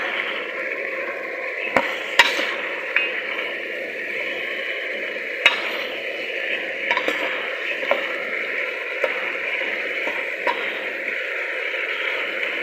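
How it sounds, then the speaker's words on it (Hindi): Aloo gobhi, potato and cauliflower, being stirred with coriander powder in a pan, a steady close sizzle broken by scattered scraping clicks of the spoon, with no talking. "उसके बाद हम इसे अच्छी तरह मिक्स कर लेंगे।"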